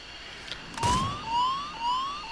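A crash alarm sounds in the video game Dreams as an aircraft goes down with its wheels retracted: a rising siren-like electronic tone repeats in three climbing sweeps after a brief burst of noise, fairly loud and alone with no voices.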